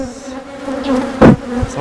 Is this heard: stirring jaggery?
no